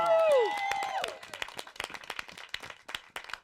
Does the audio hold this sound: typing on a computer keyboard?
no